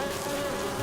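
A mosquito gives a steady, thin, high-pitched whine that holds unbroken and close for under a second, with no other sounds around it.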